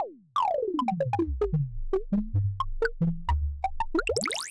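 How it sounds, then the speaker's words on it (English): A rapid percussion loop with a delay sweeping its pitch, clicks smearing into a gliding, dipping watery tone that falls and then rises sharply at the end. "a technique I use to make things sound like they're kind of dipping underwater"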